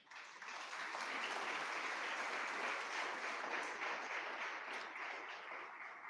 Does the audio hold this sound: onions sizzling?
no